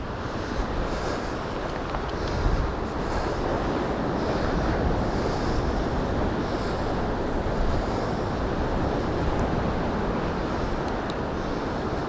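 Beach surf crashes and washes continuously in a loud, broad roar, mixed with gusting wind across the microphone.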